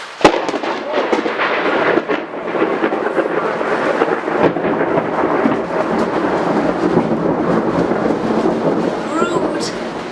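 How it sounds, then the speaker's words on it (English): Steady rain with rolling thunder, a dense, loud wash of rainfall throughout, a sharp crack right at the start and rumbling beneath, with no talk over it. "It's August and it's raining still."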